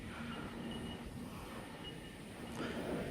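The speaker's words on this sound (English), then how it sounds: "We should have a Scofield service arriving on platform number" A passenger train arrives at the Casula station platform, a steady low rumble and rolling rail noise building slightly toward the end, heard from the platform without talk.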